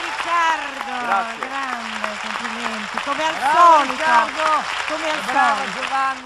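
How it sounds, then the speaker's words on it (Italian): Studio audience applause at an Italian TV music show, a broad patter of clapping running underneath someone talking throughout. "L'applauso anche loro."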